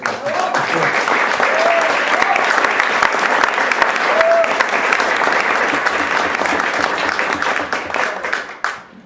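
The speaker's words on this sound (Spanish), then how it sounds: "pido un aplauso para empezar" Audience applause fills a book presentation in Buenos Aires for the launch of a political essay, steady dense clapping from a large crowd lasting several seconds before tapering off at the end.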